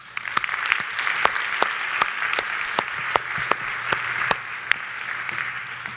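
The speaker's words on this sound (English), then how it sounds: "I think we should give them a round of applause." Applause for event organizers and volunteers at a free class, steady clapping through the whole stretch with a few sharp, louder claps standing out near the front.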